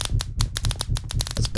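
Rapid, rhythmic mechanical clattering like a typewriter from a machine in the Minecraft modpack Sky Factory 3, repeating in steady bursts with a low thumping pulse underneath, loud and close.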